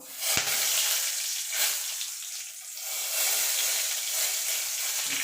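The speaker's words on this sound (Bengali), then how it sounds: "তার জন্য ফোড়নে দিয়ে দেবো একটা তেজপাতা আর গোটা গরম মশলা।" Bay leaf and whole garam masala spices sizzle and hiss steadily in hot oil, a continuous close frying crackle with a sharp tap near the start.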